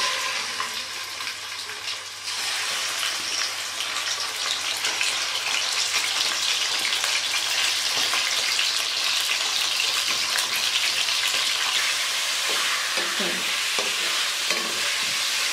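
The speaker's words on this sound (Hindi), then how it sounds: "अब मैं चिकन को तकरीबन 8 से 10 मिनट फ्राई करूँगी।" Chicken fries in hot oil in a karahi, giving a loud, continuous sizzle that stays steady throughout with a light bubbling texture and no voices.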